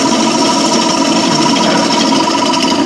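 A woodturning tool cuts a cone shape across the face grain of a spinning piece, giving a loud, steady, close rumbling grind with a fast buzzing texture and no pause.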